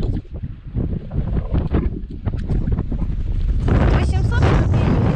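Strong mountain wind at the start of the Caucasus range buffets the microphone, a loud, uneven rushing roar that builds over a few seconds, with a voice faintly audible under it.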